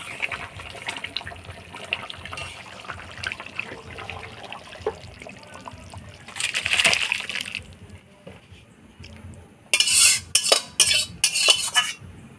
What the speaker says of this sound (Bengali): এবার গরম মশলা দিয়ে নাড়াচাড়া করে নামাই দেব।